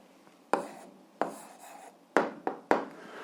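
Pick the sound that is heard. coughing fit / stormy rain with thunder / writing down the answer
writing down the answer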